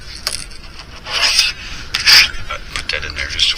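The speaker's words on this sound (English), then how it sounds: "by sanding it right now" Hand sanding of a custom fishing mouse lure, likely over clear coat: several short raspy rubbing bursts, close and moderately loud, with uneven pauses between strokes and no talking.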